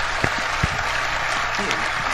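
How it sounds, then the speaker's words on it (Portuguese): Hands clapping in a brief burst of applause, fairly loud and continuous, with a few sharper claps standing out. "Aplausos"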